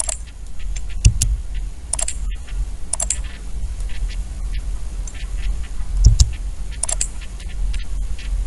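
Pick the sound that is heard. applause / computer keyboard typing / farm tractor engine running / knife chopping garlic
computer keyboard typing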